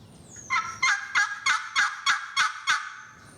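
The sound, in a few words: vintage turkey call imitating a turkey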